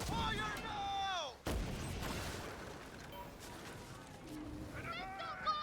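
Ship cannon fire in the naval game Skull and Bones: a heavy boom and crashing impact amid battle noise, with voices talking over the action throughout.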